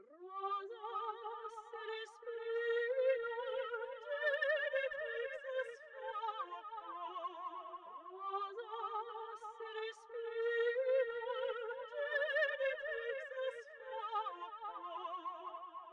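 A chorused, delayed Splice vocal sample soloed outside the beat, a dry yet chorusy, weird-sounding sung voice that swoops up into sustained tones, repeating the same phrase twice in a steady loop.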